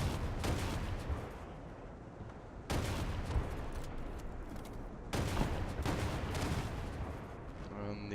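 Twin anti-aircraft autocannons of a ZSU-57-2 fire in War Thunder, heavy booming shots in three dense sustained bursts separated by brief gaps, loud and close.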